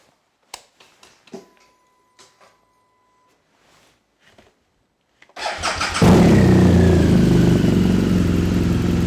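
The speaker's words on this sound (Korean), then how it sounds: "아크라포빅 머플러의 배기 사운드를 한번 들어보고요." A 2018 BMW RS motorcycle with a boxer R engine and an Akrapovic muffler: a few soft clicks and taps, then the starter cranks and the engine catches into a loud, steady, close-up idle rumble that fills the rest of the clip.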